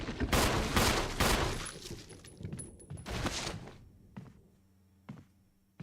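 Rapid bursts of gunfire ring out in the video game Resident Evil, several loud shots clustered close together. A few sparser, fainter shots and metallic clicks follow.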